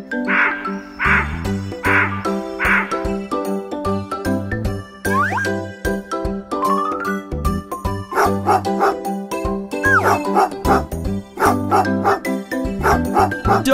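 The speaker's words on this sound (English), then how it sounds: "dog." A dog barks "bow-wow" in a children's nursery rhyme song, several short barks set over bright, bouncy music with chimes and other animal sounds.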